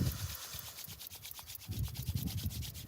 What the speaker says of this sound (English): Bringing your palms together, rubbing them once again, one more time in a circular motion